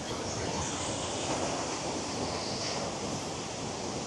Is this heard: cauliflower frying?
no